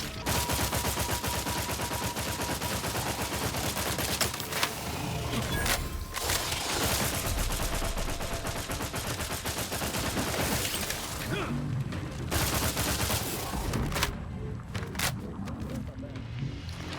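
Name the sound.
burst assault rifle gunfire in The Outer Worlds 2 video game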